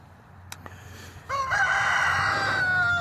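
After a couple of faint clicks, a rooster crows loudly and close, one long drawn-out cock-a-doodle-doo.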